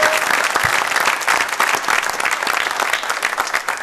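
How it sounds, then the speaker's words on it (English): A crowded room of listeners at a startup incubator pitch night breaks into sustained, dense applause for the pitch teams, steady and loud throughout with no talking over it. "Round of applause. Direct dial, everybody."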